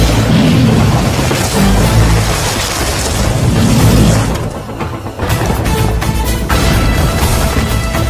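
Bomb blasts in a Telugu comedy film scene produce loud, booming rumble that stays heavy and continuous, briefly dipping before crashing back in at full force.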